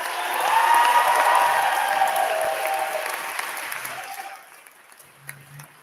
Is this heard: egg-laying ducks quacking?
no